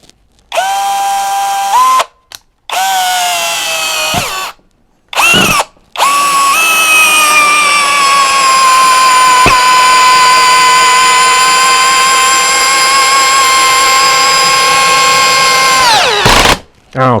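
Mensela ED-LX2 brushless impact drill driving a screw into wood, loud whining motor bursts starting and stopping several times, then a long sustained run with pitch shifts before it stops.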